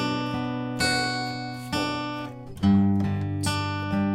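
Strummed acoustic guitar playing the intro of a song, several chord hits in a moderate rhythm, close and fairly quiet with no talking.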